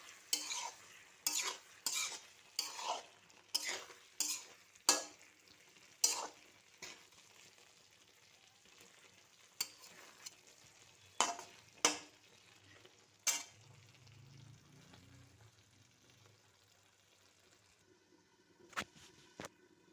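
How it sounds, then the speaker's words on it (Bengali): A soybean and potato kosha curry stirred in a pan after Maggi masala is added, with a run of sharp spoon scrapes and clinks against the metal, gentle frying sizzle underneath, then quieter stirring toward the end. "ম্যাগি মশলাটা দিয়ে আবার একটু নাড়িয়ে নেব।"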